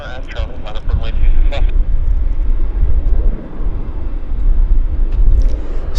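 A jet departs at Vancouver Airport with a loud, heavy low-frequency engine roar that swells and holds steady, while a voice and some brief higher-pitched sounds come through near the start.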